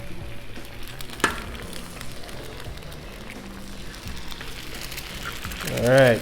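Two eggs frying in avocado oil on a Blackstone flat-top griddle, a steady low sizzle with a sharp clatter near the start and a louder swell of activity at the very end; people talk over it.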